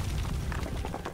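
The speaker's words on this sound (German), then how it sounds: "Oder ich habe die Bombe explodieren lassen." A bomb explodes in an Amnesia custom story horror game, a dense, loud, rumbling boom that fills the moment with low crackling bursts and no voices.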